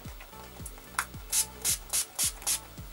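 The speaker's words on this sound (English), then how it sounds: "I'm going to use the Avon Setting Spray and spritz this" Five quick hissing spritzes of Avon setting spray land on a makeup brush in an even rhythm, close and crisp, with soft low tones underneath.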